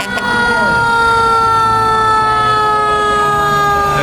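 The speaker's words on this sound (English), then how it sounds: "And coming up now we have Engine 9, which is from Indian Neck and Pine Orchard." A fire engine siren wails loud and close in a Christmas parade, a steady sustained tone with rising overtones that runs the whole time, faint talk beneath it.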